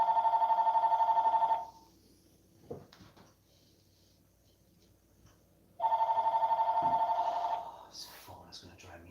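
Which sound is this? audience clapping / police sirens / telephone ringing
telephone ringing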